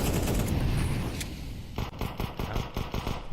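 Rapid gunfire in a Counter-Strike esports match, a dense burst of game shots at first giving way to a steady run of sharp, evenly spaced clicks and pops.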